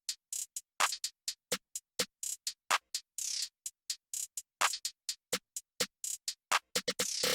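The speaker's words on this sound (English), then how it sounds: "This is what that hi-hat sounds like with the clap and the snare." Hip hop hi-hat pattern programmed in FL Studio, played with clap and snare hits: rapid, crisp electronic ticks in a busy stuttering rhythm with sharper accented claps and snares, clean and upfront with no voices.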